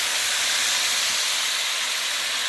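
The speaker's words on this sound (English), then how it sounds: "We're going to finish this off and deglaze it with some" A pan being deglazed with Marsala wine while cooking lobster for zuppa di pesce gives off a loud, continuous steam hiss, broad and unbroken for the whole moment, with no talk.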